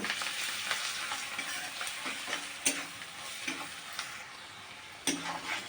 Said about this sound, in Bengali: আমার হলুদটা ভাজা হয়ে গেছে কাঁচা গন্ধটা ছেড়ে দিয়েছে